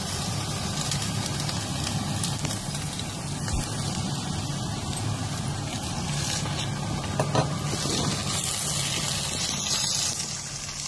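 Dry milk powder being stirred into a pot of cooking watermelon-peel sweet, a steady wet churning and bubbling hiss that continues evenly throughout with no one speaking.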